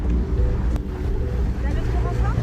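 Twin boat engines throttle up at around 2200 rpm while crossing a reef pass in Polynesia, a loud steady motor drone mixed with wind buffeting the microphone and water noise throughout.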